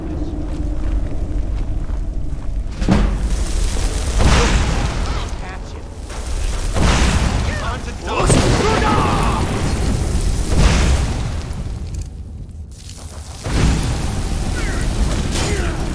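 Fire spell blasts in Skyrim bursting at intervals of a few seconds, each a loud whooshing boom that fades out, with someone talking over them throughout.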